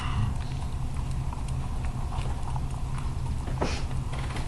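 Hooves of a ridden horse clip-clop steadily during a riding session, a rhythmic, moderately close patter of footfalls with a faint noisy background and no talk.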